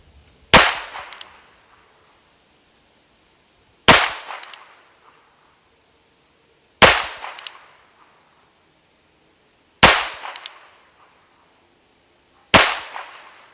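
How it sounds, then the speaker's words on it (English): Five sharp, loud .22 rimfire reports from an NAA Green Huntsman firing CCI 40 grain AR Tactical rounds, evenly spaced about three seconds apart, each a crisp crack with a brief ringing tail and no voices between. "we'll actually do some firing with the 22 Rimfire ammo"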